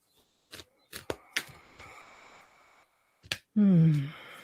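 Several brief papery bursts of tarot cards being shuffled, spaced by quiet pauses, followed by a short voiced sound at the end.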